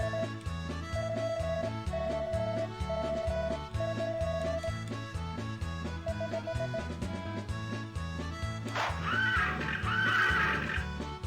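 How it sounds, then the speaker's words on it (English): Horse race in Harvest Moon: Back to Nature, a loud whinnying neigh near the end over looping game music and galloping rhythm, with no voices. "after the horse race, the game sound will be softer"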